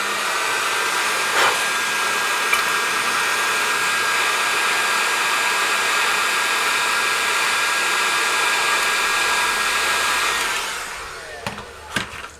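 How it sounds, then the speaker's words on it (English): A heat gun blows steadily on parts inside a Fender Tremolux amplifier during a repair, giving a constant loud whooshing hiss that runs for about ten seconds before cutting off, followed by a few small clicks. "I think a little bit more heat from the heat gun"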